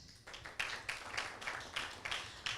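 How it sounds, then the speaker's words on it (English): Audience clapping for school teams at a junior high school competition semifinal, a modest, fairly distant round of applause with uneven rhythmic claps. "round of applause for the teams on stage"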